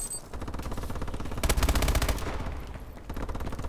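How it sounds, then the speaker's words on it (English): An automated turret in a Call of Duty Exo match fires in rapid, continuous bursts, loud and close, swelling to a dense peak midway before settling back into steady rattling. "Okay, my turret can handle the rest."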